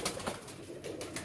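Sialkoti pigeons cooing in a loft, soft repeated throaty coos rising and falling over a noisy background in a short burst.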